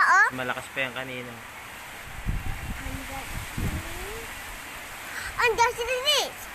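Strong typhoon wind and rain from Typhoon Rolly make a steady, hissing wash behind excited, frequently shouting voices that sit over it for most of the clip.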